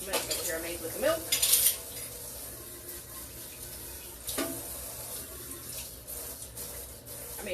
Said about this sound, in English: let me clean out some of this mess over here I made with the milk